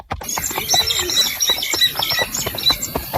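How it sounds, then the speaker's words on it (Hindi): Cartoon forest birdsong: quick high chirps and tweets repeat over a busy, rustling background, bright and fairly loud throughout. "वो जंगल शांत, हरा भरा और पक्षियों के मधुर संगीत से गूंज रहा था"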